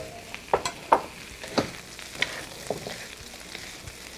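Shrimp sizzling in a hot stir-fry wok, a soft steady hiss broken by several sharp clacks and scrapes of stirring, fairly quiet with no talk.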